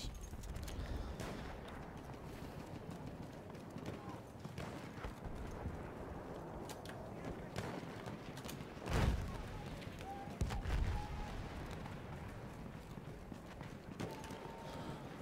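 Horse hooves clip-clop and gallop in a Battlefield 1 multiplayer match, a rapid rhythmic pounding mixed with distant gunfire and a couple of heavier blasts, with players talking faintly over it.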